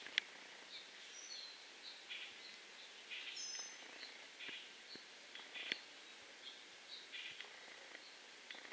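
Birds in trees outdoors give sparse, faint high chirps and tweets scattered across a quiet background, with soft rustles and a few light clicks.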